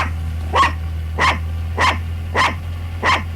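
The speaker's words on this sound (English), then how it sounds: "It's not nice to bark at people." A cartoon dog in an animated TV series barks five times at an even, unhurried pace, close by, over a low steady hum.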